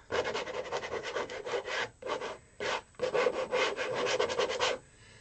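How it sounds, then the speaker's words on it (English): Close, rough scraping strokes of paint across a textured canvas, repeated in bursts with brief pauses between them. "Okay, I'm going to scrape."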